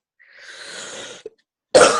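A single person gives a short cough or throat-clearing burst at close range, preceded by a soft breathy noise and a small click, heard over a quiet call.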